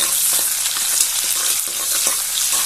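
Curry leaves and onion sautéing in hot oil with mustard seeds and dried chillies for a Chettinad toor dal gravy, a steady close sizzle with soft stirring scrapes throughout.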